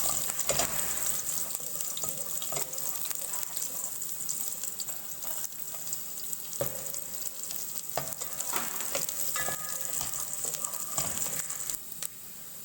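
Sliced ginger and garlic fry in hot oil in a pan, a steady close sizzle with scattered crackles and occasional utensil clinks and stirring scrapes, running continuously with no one speaking.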